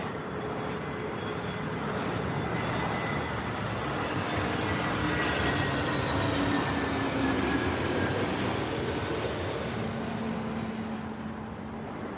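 Airbus A321neo arriving from Geneva at London Heathrow, a broad steady jet roar building gradually and holding across the whole stretch, heard from a distance in poor visibility with no voices.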